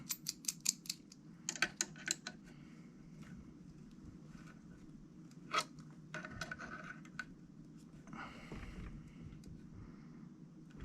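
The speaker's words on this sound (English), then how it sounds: "We'll use that crescent wrench, tighten it down." Crescent wrench tightening the clamp of a riflescope mount bracket: a burst of quick metallic clicks and ticks at the start, a few scattered taps later, then light rustling handling noise. All close and fairly quiet, with no voices.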